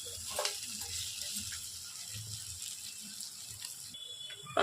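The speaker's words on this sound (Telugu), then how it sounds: "ఈ వాటర్ అంతా పోయేంత వరకు ఫ్రై చేసుకోవాలి." Chicken sizzles and bubbles softly in a pan as its released water cooks off, with a faint steady frying hiss and occasional stirring clinks nearby.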